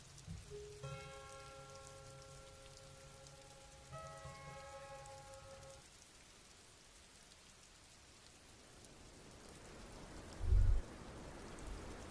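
Rain falling in the Disco Elysium video game, a steady patter of drops with a sustained musical tone early on and a low thump near the end, no talking.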